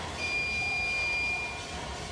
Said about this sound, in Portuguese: Esse alarme foi pré-selecionado para 200 graus.